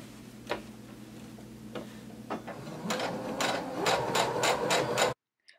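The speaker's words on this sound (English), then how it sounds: "Go ahead and lower your needle, begin sewing, and backstitch." A sewing machine stitches the casing of a maxi skirt, starting with a few separate needle taps, then speeding into a quick, close, rhythmic ticking run before it stops abruptly.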